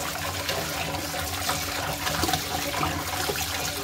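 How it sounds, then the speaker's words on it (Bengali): Fish is swished and washed in a container of water, producing steady close sloshing and splashing with no pauses and no talking. "এরকম ছল ছলিয়ে মাছ ধুলে মাছের ভিতরে কোনো ময়লাই থাকে না।"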